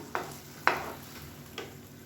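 Rava and bread halwa cooking in ghee in a pan, stirred three times: soft scraping strokes over a faint, steady sizzle, quiet and close.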